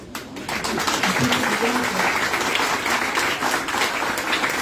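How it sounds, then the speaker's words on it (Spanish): Steady crowd applause at a school graduation fills the clip from start to finish, dense and loud, with a murmur of voices mixed underneath. "Por favor, aplausos."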